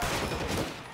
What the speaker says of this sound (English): as a cop, I'm going to shoot first and ask questions later